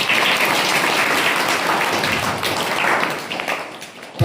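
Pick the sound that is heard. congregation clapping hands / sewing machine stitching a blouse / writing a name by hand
congregation clapping hands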